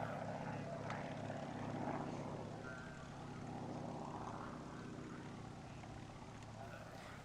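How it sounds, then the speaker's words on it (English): A Nanchang CJ-6 propeller trainer, a vintage warbird flying at the Duxford Flying Day airshow, drones steadily with an engine hum that swells slightly and then holds, heard from a distance. "Despite its age, the CJ-6 is still very much in service today"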